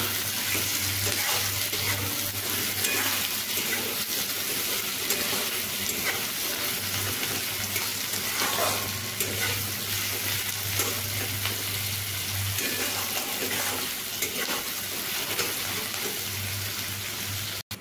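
Green plantain with salt and capsicum sizzles and crackles steadily as it is stirred and fried in a pan, a close, even frying hiss running throughout with no talking.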